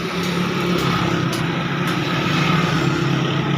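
A new Massey Ferguson MF 385 Deluxe tractor engine idling steadily close by, a low continuous rumble with even harmonic drone and a few faint clicks above it, no voices.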